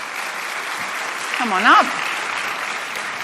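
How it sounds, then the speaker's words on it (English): A conference audience applauds in a steady, continuous wash as speakers are welcomed back to the stage, while a voice speaks briefly over it. "Give them a round of applause."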